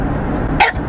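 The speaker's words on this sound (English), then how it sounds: "this fool will not stop barking at me" A dog inside a car gives one short, sharp bark near the mic over the low rumble of the moving vehicle.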